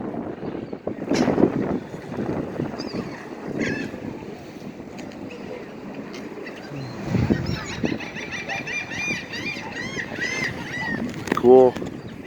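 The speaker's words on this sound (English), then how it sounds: "Tons of seagulls all over the place. All over the place flying around." Seagulls call repeatedly by the water at City Island, their squawks coming in bursts, some near and some farther off, over wind buffeting and low waterside rumble.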